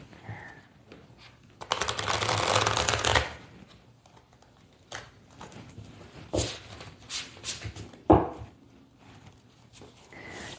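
A deck of tarot cards is riffled in one loud, crisp shuffle lasting about a second and a half, followed by softer, scattered taps and card handling close by.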